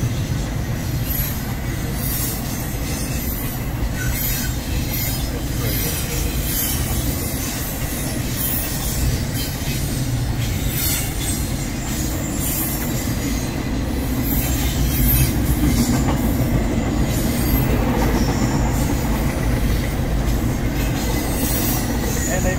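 A Norfolk Southern freight train rumbles steadily past at close range near Branchville, South Carolina, wheels squealing and rattling over the rails in a continuous heavy roar.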